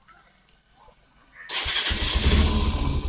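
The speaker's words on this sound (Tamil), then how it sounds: "அதுக்கு ஒரு சாம்பிளுக்கு இந்த வண்டியை ஸ்டார்ட் பண்ணி காமிக்கிறேன்." A Bajaj Pulsar 150 BS6 motorcycle with a fuel pump fault cranks and fires up after a quiet lead-in with soft clicks, then settles into a loud, steady idle close by.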